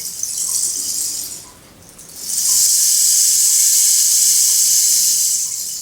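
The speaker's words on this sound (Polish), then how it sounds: "a to się nazywa zaklinacz deszczu" A soft, hissing cascade of tiny pellets pours through a tube, pauses briefly, then surges back louder and sustains in a smooth rushing shower.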